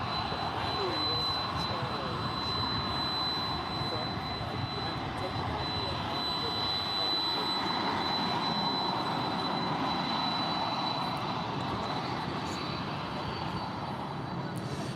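Airliners taking off at DFW airport give a loud, continuous jet engine roar that fills the whole stretch, steady and dense, with faint crowd voices beneath.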